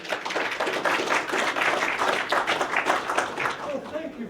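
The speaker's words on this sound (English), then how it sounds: "let's give him a round of applause" Audience applause at a computer show presentation theatre, a steady moderate round of clapping from a seated crowd lasting several seconds, with a voice briefly audible near the end.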